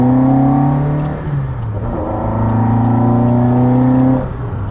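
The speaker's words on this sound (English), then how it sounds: "Hopefully you can hear those carbs." Mk1 VW Caddy engine fed by twin Weber 45 carburettors pulls and revs from inside the cabin, rising and falling in pitch as the gears change, loud and close with a throaty intake note and no talking.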